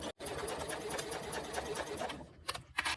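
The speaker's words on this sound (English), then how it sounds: "a couple of back stitches here, and then I'm going to sew along, making sure that my tape is staying lined up with the edge of my exterior" A sewing machine runs steadily while stitching zipper tape along the edge of an exterior fabric piece, a brief pause at the start and a couple of short bursts near the end, close and fairly quiet.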